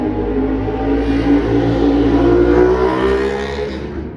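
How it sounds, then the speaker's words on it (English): Loud motorcycle engines rev and drone steadily nearby from a neighbouring motorcycle shop, a continuous throaty roar that swells slightly in the middle and eases toward the end. "our warehouse is right behind a motorcycle shop. Gets a little loud sometimes."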